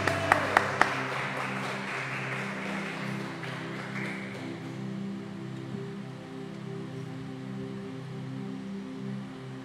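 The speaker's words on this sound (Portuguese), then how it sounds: "Aplauda ele bem forte" Audience applause at a church worship event, a few sharp claps at first swelling into steady clapping, then fading under a sustained organ-like musical tone that carries on alone.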